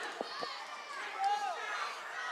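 Crowd noise at a high school wrestling match, a broad steady roar of cheering voices held at moderate level for the full stretch, with a couple of brief sharper shouts near the start and a rising call midway.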